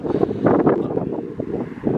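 Wind buffets the microphone in low, rumbling gusts that swell and ease across the short stretch.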